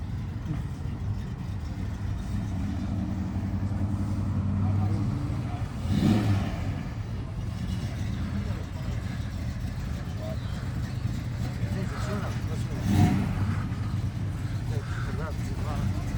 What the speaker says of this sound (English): I hear a four-cylinder on each bank.